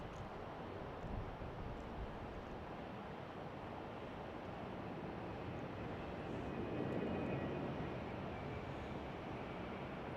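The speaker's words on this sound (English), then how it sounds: "we have Polish Airlines Flight 3 coming in from Warsaw right now" A LOT Polish Airlines plane on Flight 3 from Warsaw arrives at Chicago O'Hare with a steady, broad jet roar heard from a distance. The roar swells slightly midway, with wind rumble and no talk.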